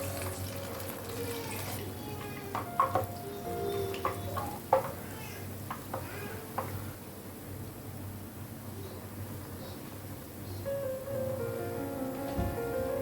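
Medu vada, Kerala-style urad dal fritters, fry in hot oil with a soft, steady bubbling sizzle, broken by faint clinks and stirring sounds, with quiet speech now and then.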